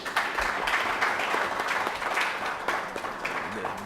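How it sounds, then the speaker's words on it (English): Audience applause for a relay team at an IAAF/BTC World Relays sponsor event, a steady broad wash of clapping throughout with a few sharper individual claps standing out, moderately distant. "To this team, please give them a round of applause."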